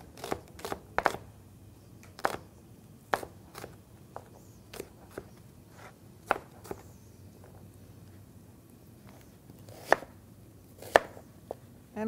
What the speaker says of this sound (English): We'll get this diced up a little bit.